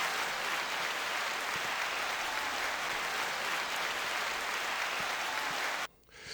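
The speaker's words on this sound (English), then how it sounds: "9 second applause to Curtis King." Dense, continuous applause from many hands fills nearly six seconds at an even, moderate level, then cuts off abruptly, leaving only faint room noise.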